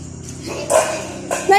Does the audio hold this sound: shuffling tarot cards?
no